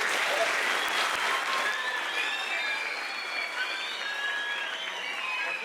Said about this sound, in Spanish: ahora sí que es el momento de darle un aplauso muy fuerte